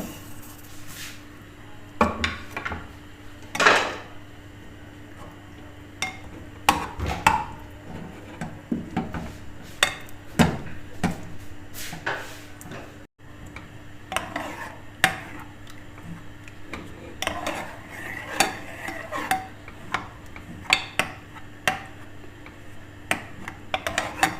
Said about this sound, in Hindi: वो चम्मच के साथ इसको अच्छी तरह दूध में मसल लें